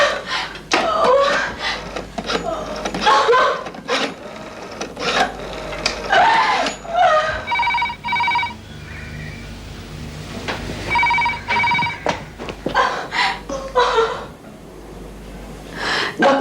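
A telephone rings with repeated electronic trills, interleaved with sharp clicks and handling noises, as a call is placed to a doctor in a Hindi TV drama; fairly loud and close, with no clear speech.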